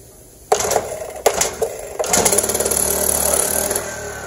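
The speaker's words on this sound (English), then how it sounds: "Now this is a bona fide 4-cycle engine." A four-stroke engine on a Makita M4 concrete saw, with broken engine mounts, sputters into life after a few sharp pulls. It catches and settles into a loud, steady, close running rattle.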